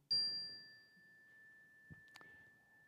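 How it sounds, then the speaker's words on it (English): A handheld chime struck once, a bright clear ring that sustains and slowly fades in a quiet room, followed by a couple of faint soft knocks and handling sounds. "I have a chime."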